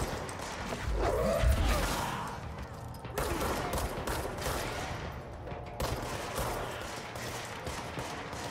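A burst of rapid gunfire from the video game Control crackles near the start, followed by scattered shots and clattering impacts over a rumbling background.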